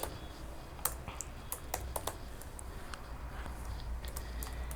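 Keyboard clicks from someone typing PHP code into an editor, quiet uneven taps and short bursts spread across the span over a low steady hum, no voices.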